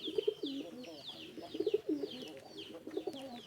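Soft, repeated pigeon cooing in low rounded pulses, close by, with faint chirping birds in the background.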